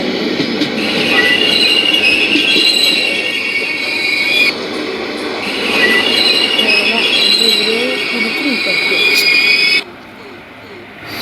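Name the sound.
train arriving at station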